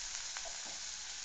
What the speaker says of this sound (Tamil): இந்த வெங்காயம் வதங்கிக் கொண்டிருக்கும்போது